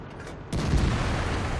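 A T-34-2 tank cannon fires in World of Tanks, a single heavy, abrupt boom that follows a quieter lead-in and then rolls on as a loud, sustained rumble.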